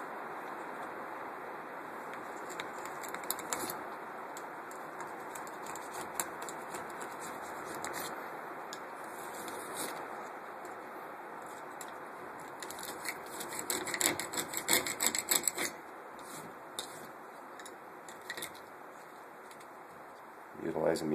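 A Hyde Caulk-Away removal tool scrapes old caulk out of corners, producing close, gritty scratching and crumbling strokes, steady at first and then a louder burst of rapid scraping near the end.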